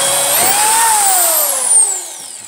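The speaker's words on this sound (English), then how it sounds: "so let's drill our first pilot hole." A power drill whirs loudly while drilling a pilot hole, its pitch rising then slowly dropping as it winds down, close by with no voices.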